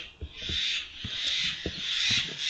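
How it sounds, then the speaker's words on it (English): A bird screeches in a long, harsh, raspy cry that stretches on with small breaks, loud and close, over faint low knocks and rustles, recorded from inside a car. "Sorry about the screeching bird."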